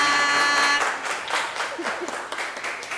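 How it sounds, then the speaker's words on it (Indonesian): Audience applause at a local music talk event in Makassar, starting over a fading musical tone, then a scattered burst of clapping from a modest crowd that thins out into irregular claps and light crowd noise. "Tepuk tangan dulu dong untuk Kak Juang."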